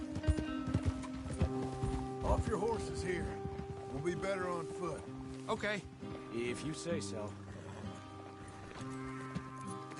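Horses' hooves clip-clop in the video game Red Dead Redemption 2, steady and moderately close beneath background music, while someone speaks briefly.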